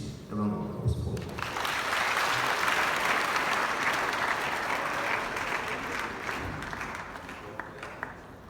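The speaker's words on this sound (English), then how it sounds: "A round of applause for them." An audience applauds student presenters at an education event on Ghana's smart school projects, a full, sustained burst of clapping that swells quickly and then tapers slightly while some voices murmur through the crowd.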